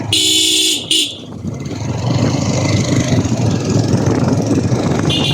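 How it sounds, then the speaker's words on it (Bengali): An Apache 4V motorbike on Saint Martin's Island sounds a loud, bright horn blast, then a short second toot, followed by engine rumble and road noise, with a faint horn again near the end. "দেখেন এখানে আবার একটি হরেন দিতে হবে"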